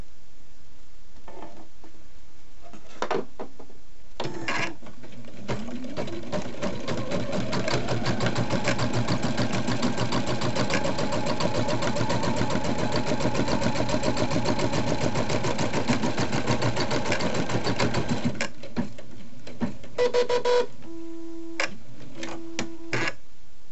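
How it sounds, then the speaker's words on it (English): An embroidery sewing machine stitching the tack-down pass for an appliqué design, a steady rapid mechanical whir and needle clatter running nearly twenty seconds, with short starts and stops and beeps near the end. "the next stitch will be the tack down stitch"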